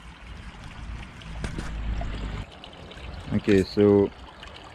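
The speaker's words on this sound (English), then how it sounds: "having the sound of the waterfall, the fish by your side" A garden fish pond's waterfall gives a steady, close rushing and trickling flow throughout, with someone briefly talking over it near the end.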